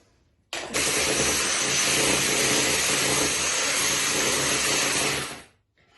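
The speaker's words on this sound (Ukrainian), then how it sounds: "Яйця змішуємо з цукром, з ванільним сукром та дрібкою солі." An electric mixer beats eggs with sugar, vanilla sugar and a pinch of salt for pancake batter, a steady loud whirring drone that starts abruptly, holds for about five seconds, then winds down.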